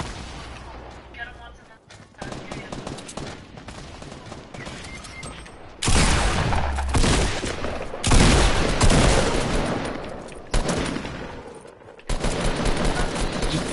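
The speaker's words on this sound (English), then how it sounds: "We're getting shot." Video game gunfire crackles in dense bursts and volleys, loud and close, with heavier bursts after six seconds, mixed under excited players talking over each other.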